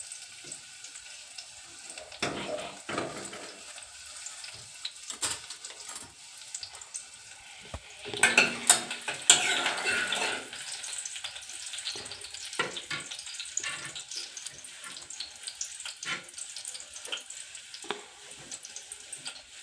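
Garlic fries in a pan for a prawn curry, a soft crackling sizzle broken by scattered clicks and spoon scrapes, with a louder burst of hissing partway through.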